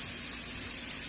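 Salted and peppered pork chops sizzle in a very hot skillet, giving a brief, steady, close hiss with no voices.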